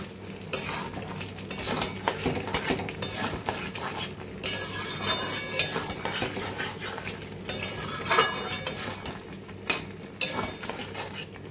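Chicken curry is stirred in a hot pan after garam masala and kasuri methi go in, giving a steady background sizzle with repeated scraping and clinking of a spoon against the metal.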